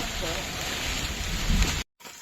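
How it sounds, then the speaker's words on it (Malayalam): Steady heavy rain pours down in a forest on the Dudhsagar trek near the Goa–Karnataka border, a dense, close wash of noise that swells slightly before cutting out abruptly near the end. "മഴ പെയ്യുന്നുണ്ട്, അത്യാവശ്യം നല്ല രീതിയിൽ മഴ പെയ്യുന്നുണ്ട്."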